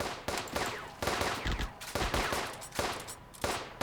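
Artillery fire in the PC war game Firefight: a series of sharp, loud blasts at roughly one-second intervals, each with a short rumbling tail, layered over dense battlefield gunfire with no voices.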